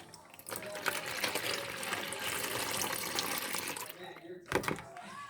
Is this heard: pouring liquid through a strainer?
yes